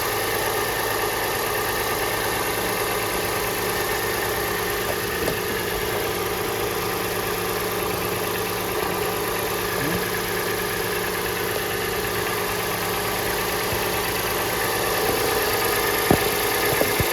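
Acura MDX engine idling after a timing belt service, a steady mid-to-low hum with faint vibration, continuous and even throughout with no talking.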